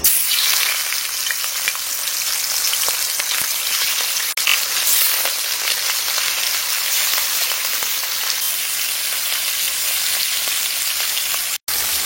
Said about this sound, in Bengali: ভালো করে ভেজে নেবো মাছটা